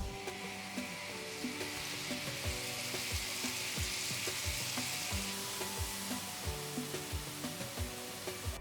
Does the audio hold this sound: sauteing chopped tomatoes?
yes